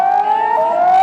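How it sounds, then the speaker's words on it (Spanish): Warning sirens sounding to alert the population during an earthquake: a loud, steady wailing tone with a slight pitch drift, continuous for about a second with no voices. "A las 8:46 comenzaban a sonar las sirenas que avisaban a la población del norte."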